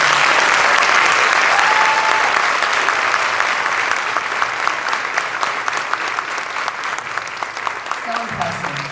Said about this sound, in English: I just feel the need to give these young people another round of applause